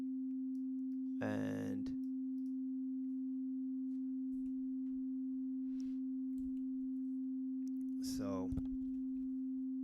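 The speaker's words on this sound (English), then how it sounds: "as you can hear, we just have a basic raw oscillator sound here" A raw, unprocessed synthesizer oscillator in Reaktor holds one steady, clean pitched tone for the whole stretch, with a voice talking briefly over it twice.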